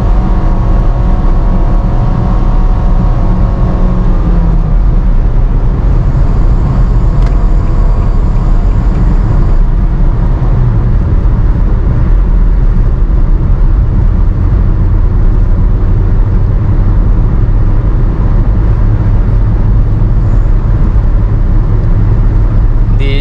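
A Nissan Grand Livina automatic is floored on a toll road. A loud, constant engine drone and road roar fill the cabin, with the pitch shifting slightly as it builds speed.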